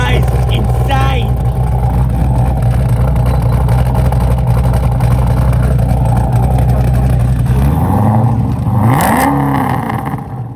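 An 850-horsepower supercharged Holden VF2 Commodore SSV Redline sedan engine runs loud and close, holding a deep, steady roar before revving up sharply near the end and dropping back.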